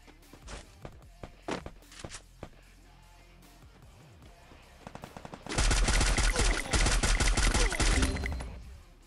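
P90 gunfire in the mobile battle game Free Fire comes after scattered footsteps and a few single shots, then breaks into a loud, sustained automatic burst lasting several seconds before it tapers off.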